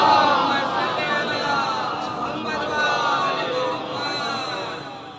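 Crowd at a majlis loudly reciting salawat in unison: a dense, sustained roar of many voices filling the room, steady and close throughout.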